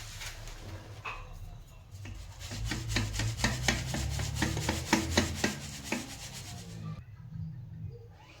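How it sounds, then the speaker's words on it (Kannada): Chakli flour is shaken through a sieve, giving a rapid run of rhythmic rasping scrapes close by that builds in the middle and then stops abruptly, with brief quiet stretches before and after. "ಈ ಥರ ಎಲ್ಲ ನೀಟಾಗಿ ಹಿಟ್ಟನ್ನು ಜರಡಿ ಆಡಿಸ್ಬಿಡ್ರಿ."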